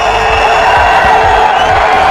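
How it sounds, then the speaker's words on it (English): Cricket crowd cheering a six hit by MS Dhoni in a 2008 match against Australia, a loud continuous roar of excited voices with rhythmic rising pulses, dense and steady across the whole moment. "Small crowd excited."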